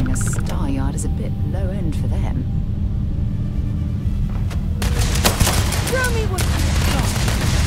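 Gunfire in the video game Starfield, rapid bursts of shots over a steady low rumble, loud and close, with sharper cracks and whines in the later seconds.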